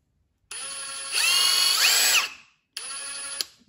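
Ryobi P238 brushless impact driver spinning a bit, two close, high-pitched motor whirs, the first rising to a higher speed before winding down, the second shorter after a brief pause.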